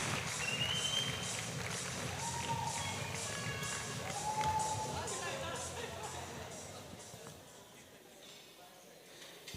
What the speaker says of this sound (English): keep the applause coming for this amazing club right here at Madibaz